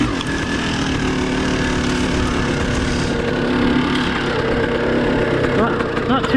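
A dirt bike engine running on a wooded trail, a continuous loud low rumble with steady idle-like throb that rises slightly near the end, close to the listener.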